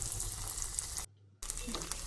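Sabudana vegetable chops deep-frying in hot oil over a low flame give a steady, bright sizzle close up, broken by a brief silent gap before the crackling resumes.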